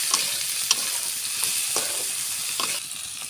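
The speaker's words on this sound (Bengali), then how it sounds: "আমাদের করলা সুন্দরভাবে ভাজা ভাজা হয়ে গেছে। একটু নাড়াচাড়া করে নিব।" Bitter gourd frying in a pan, a steady hiss of sizzling oil broken by a few sharp scrapes and clinks as a spatula stirs the pieces, with no one talking.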